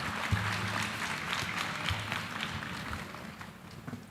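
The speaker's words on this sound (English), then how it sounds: "please give a round of applause for Dr. Ricketts" An auditorium audience applauds at a faculty welcome ceremony, a wash of many hands clapping at moderate level, steady with a low hum underneath.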